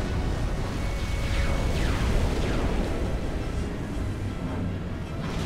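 A submarine destroyed in the Supreme Commander strategy game, heard as a continuous rumbling explosion wash with rising whooshing streaks, loud and sustained with no talk over it.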